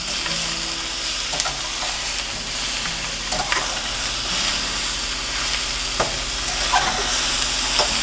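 Sausages fry in a hot pan with a dense, close, continuous sizzle and crackle, broken by occasional sharper pops and scrapes.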